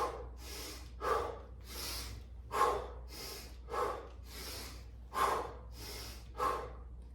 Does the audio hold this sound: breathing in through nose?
yes